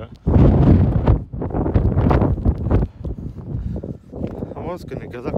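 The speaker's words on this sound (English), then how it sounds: "it's too windy up here" Heavy wind on top of the Malvern Hills buffets the microphone with a loud, roaring whoosh, while a person talks over the gusts.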